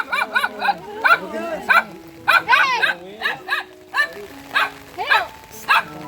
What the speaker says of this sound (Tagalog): Galit, galit yung aso, Nay.